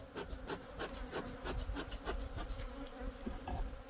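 Honey bees swarm around an opened hive box in a backyard apiary, a steady close buzzing with wooden frames scraping and rubbing now and then, no voices.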